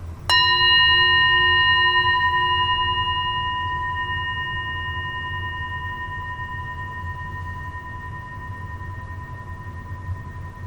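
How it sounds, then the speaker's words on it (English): A single bell struck once to open a guided breathing session, its clear metallic tone sounding alone and ringing on, fading slowly over about ten seconds. "Ring the bell"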